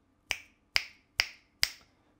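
Four crisp finger snaps from an FL Studio sample, evenly spaced and close, each a sharp crack with a short ringing tail, with no other sound.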